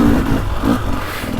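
A Gas Gas MC300 two-stroke moto dirt bike with a 5-speed gearbox pulls in second gear on a woods loop, its engine a close, throaty, slightly uneven drone.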